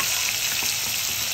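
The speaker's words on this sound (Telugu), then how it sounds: "ఆయిల్లోనే ఉల్లిపాయలు వేసుకోండి. అది బాగా వేగాక వేద్దాం." Onions frying in hot oil, a dense, even hiss that stays steady and fairly close for a brief moment.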